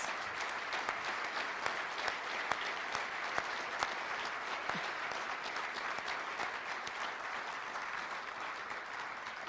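A gala audience claps together for a Chamber of Commerce event in a steady, even wash of applause with individual sharp claps standing out. The applause is moderately distant and continues throughout with no speech on top.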